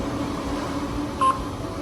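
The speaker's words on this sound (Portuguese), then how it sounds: "eu vou desbloquear o painel aqui" A Sansei MQ4 electronic sewing machine's touchscreen panel gives a single short electronic beep while being unlocked, faint against a quiet room hum.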